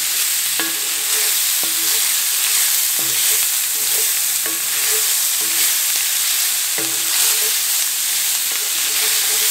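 Jambalaya ingredients are stirred in a pot over heat, a continuous loud sizzle and hiss with regular spoon scrapes and knocks recurring every second or so, no talking.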